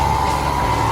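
A heavy diesel truck engine roars loud and steady close by, a deep rumbling drone holding the same pitch for the whole moment with no voices.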